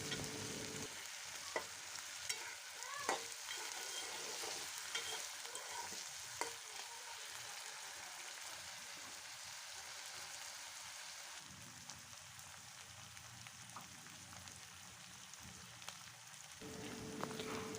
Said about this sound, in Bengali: রসুন বাটাটা দিয়ে আরও কিছুক্ষণ এভাবে তেলের মধ্যে কষিয়ে নিব